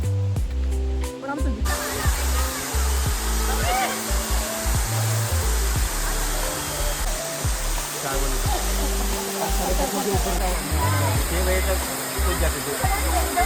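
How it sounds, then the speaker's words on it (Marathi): A loud, constant roar of Kanchan Waterfall near Junnar pouring nearby, a steady broadband rush throughout with a person speaking over it. "हा आहे कांचन धबधबा"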